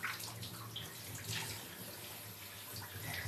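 Shower water runs in a steady, soft hiss and patter, fairly faint and continuous throughout, with no voices.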